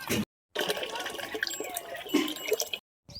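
Water running into a tub for watering cattle at a farm, a short splashing, trickling fill between brief gaps of silence.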